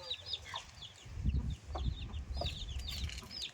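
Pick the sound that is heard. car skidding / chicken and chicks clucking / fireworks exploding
chicken and chicks clucking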